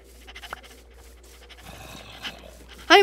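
A voice imitates a puppy panting very fast, quick breathy huffs up close, followed by a louder sharp vocal burst at the end.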